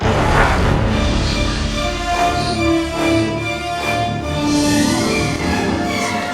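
Orchestral passage from The Lion King film score quoting a medieval melody, with sustained strings and a few held higher notes over a dense, steady backdrop, moderately loud and without voices.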